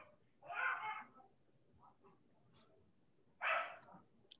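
A dog in the background gives two distinct barks a few seconds apart, moderately loud against a quiet room with faint noises in between.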